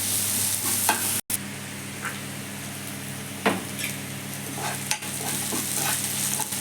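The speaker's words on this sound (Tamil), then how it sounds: "வெங்காயம் நல்லா எண்ணெயில் வதங்கிடுச்சுங்க." Onions frying in oil in a pan for a cauliflower gravy, a steady close sizzle with occasional stirring scrapes and one brief dropout.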